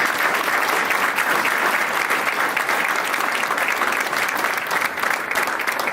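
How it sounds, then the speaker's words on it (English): A large audience applauds student athletes at a University of Maine scholar athlete ceremony, a sustained, even wash of many hands clapping at moderate distance for six seconds with no voices. "Let's give them a round of applause."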